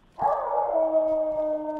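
A dog howls in the survival video game DayZ, set on the Chernarus map: a single sustained, fairly loud howl that rises at the start and then holds a steady, wavering tone for nearly two seconds, with no talk over it.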